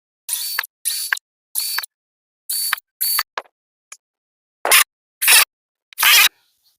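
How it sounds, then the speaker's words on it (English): A cordless screwdriver drives screws to secure an RV rail part, in short high whirring bursts, about ten of them with pauses between, close and loud. "So this will be screwed in place here. I'll put all the screws in to secure it."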